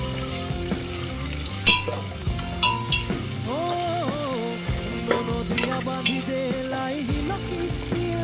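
Sliced onions stirred and frying in a pan, a continuous sizzle with repeated scrapes and clinks of the spatula against the pan at an irregular rhythm, close and moderately loud.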